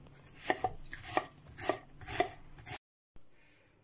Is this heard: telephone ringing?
no